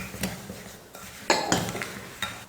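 A spoon clinks and scrapes against a bowl as semolina is stirred into beaten egg and sugar, with a few irregular, close, sharp taps.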